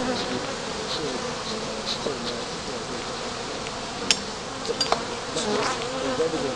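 Honey bees buzz around a hive outdoors in a continuous close, droning hum, with a few brief clicks and taps breaking through near the middle.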